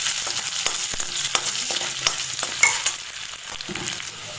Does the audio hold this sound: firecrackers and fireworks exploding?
no